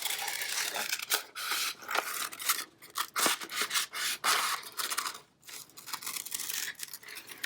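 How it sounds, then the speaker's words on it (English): Scissors snip through folded paper to cut out small dots for a 3D paper elephant craft, giving a close, steady run of crisp, rasping cuts with brief pauses and no talking. "So those little dots, I'm gonna cut two out right here."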